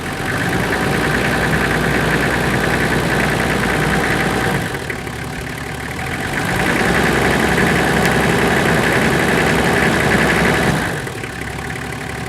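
A Toyota Land Cruiser 1HZ diesel engine runs steadily at close range, with a dense mechanical drone that swells as it is revved and then settles back, twice over, with no talk.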